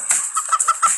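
A rapid series of synthetic, chicken-like clucks and squawks from a bird token in the mobile game Turbo Dismount, bright and close, repeating in quick bursts for about a second.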